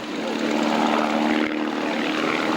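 A propeller aeroplane flies an aerobatic sequence at the 1988 Biggin Hill Airshow. Its steady, loud engine drone stays fairly close and continuous, with a hum that wavers slightly as it manoeuvres, and no talking is heard.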